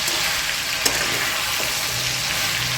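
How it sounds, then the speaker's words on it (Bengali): Chicken pieces coated in turmeric and salt fry in hot oil with a dense, steady sizzle and one faint clink of the utensil, close and loud with no voices. "এটা চিকেনটাকে হলুদ আর নুন মাখিয়ে ভেজে নিই প্রথমে"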